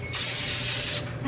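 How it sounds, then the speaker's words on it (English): Cooking oil sprayed from a can onto a casserole dish: one steady, close hiss lasting just under a second, then a brief faint rustle. "Butter your dish or spray it with cooking oil."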